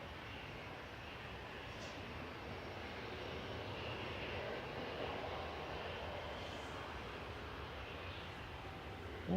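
Lufthansa flight 2501, an airliner departing Manchester for Munich, produces a distant, low, steady jet roar that swells slightly mid-way and stays faint and unbroken throughout.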